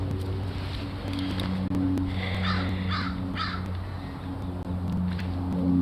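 A crow caws several times in quick succession at mid-distance, rising over a steady outdoor background hum.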